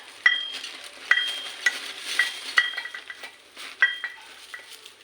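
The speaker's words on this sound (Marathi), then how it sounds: "कढीपत्ता पूर्ण हलवून घ्यायचं." Curry leaves fry in a pan under a soft sizzle while a utensil stirs them, its repeated metallic scrapes and taps landing at an irregular rhythm, close and clear.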